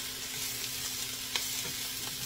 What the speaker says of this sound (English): So, I'm going to add all three of these vegetables right to this.